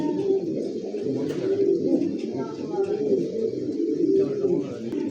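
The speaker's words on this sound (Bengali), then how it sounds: "পুরো দেখছেন পারফেক্ট কবুতর, স্প্যানিশ চরেরা" Spanish Charera pigeons coo in repeated low, throaty rolling phrases, close and steady, while people talk over them at a pigeon sale.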